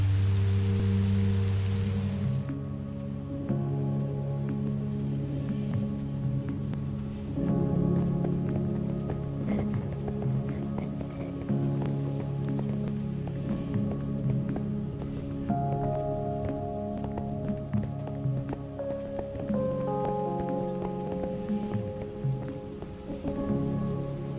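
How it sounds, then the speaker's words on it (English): Steady rain falling in the Minecraft Story Mode video game, a continuous hiss across the whole stretch with a low game music drone beneath and no talking. "Rain is better than monsters."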